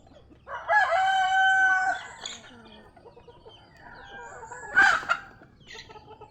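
Chickens in a yard: one long, loud crow is followed by a quieter stretch with soft clucks, then a sharp burst of squawking and clucking, all close by with no talking.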